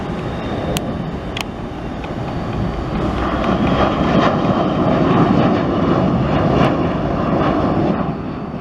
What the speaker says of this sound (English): As I hear thrust reversals in the background